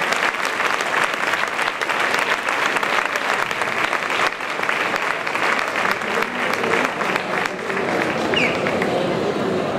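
A crowd at a Santa Cecilia band competition applauds the Nuestro Padre Jesús Nazareno de Villanueva del Duque ensemble. The clapping is loud, sustained and crowded, with scattered voices mixed into the din.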